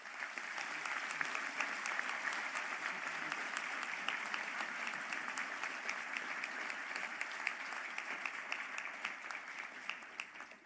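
Sustained applause from a seated audience at a graduate conferring ceremony, dense even clapping holding steady for around ten seconds at moderate distance, no voices over it.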